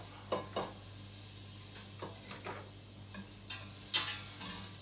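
Butter gently sizzling in a saucepan as it melts for a béchamel sauce, with soft stirring scrapes and a few louder clicks of a utensil against the pan, close and quiet.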